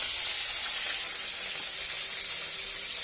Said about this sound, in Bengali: কড়াইতে দিচ্ছে এখন